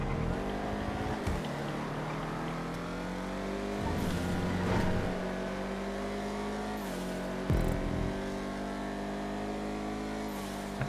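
A Vigero ZX muscle car races in GTA 5, its engine droning steadily at high revs with rising pitch as it accelerates, broken by a few quick gear-shift drops.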